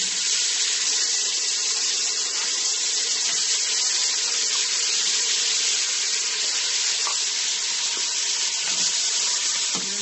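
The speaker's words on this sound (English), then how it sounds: "And then now I'll be adding the goat meat to the pot." Goat meat goes into a pot of Jamaican curry, producing a steady, loud wash of sizzling and bubbling that fills the whole stretch with no talking.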